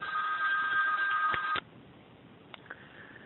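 Telephone ringing during a spoken lecture, with a steady electronic ring tone for over a second that cuts off abruptly and leaves faint room hiss with a couple of brief clicks.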